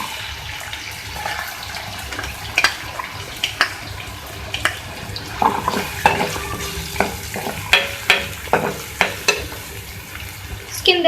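Chopped onions fry in a karahi, added after ginger-garlic paste, with a continuous sizzle and repeated stirring scrapes and clinks that get more frequent toward the end. There is no talking.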